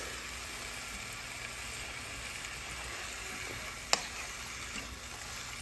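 Chicken pieces hitting hot frying masala for a Kerala-style methi chicken curry give off a steady, soft sizzle throughout, with one sharp clink of a utensil midway and no talking.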